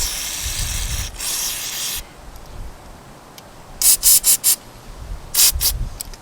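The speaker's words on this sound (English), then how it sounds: "Spray through the jet." Carburetor cleaner sprays through a jet from a 2003 Kawasaki KFX400 carburetor in several short, sharp hissing bursts, close by, after a quieter stretch of rubbing and handling noise.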